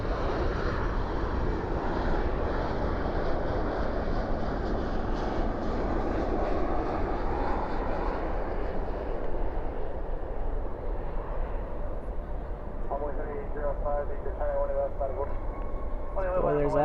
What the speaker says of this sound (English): Spoilers up, reversers out on that 737-800